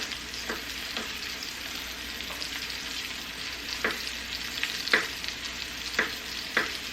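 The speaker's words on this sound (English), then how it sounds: "the meat's cooking up good" Meat sizzles steadily in a pan while a roast dinner with gravy is being made, a constant close frying hiss broken by several sharp crackles and pops, with no talking.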